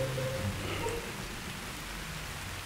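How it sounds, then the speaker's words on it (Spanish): A steady, even hiss of rain falls outdoors, a dense wash of drops with no distinct individual hits, continuous through the short moment and ending with a sudden knock. "se ha puesto a llover"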